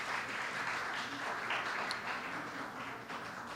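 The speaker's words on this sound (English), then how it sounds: "Another round of applause." Audience applause at an award ceremony, a sustained even patter of many hands clapping in a large hall, moderately quiet and continuous with no talk over it.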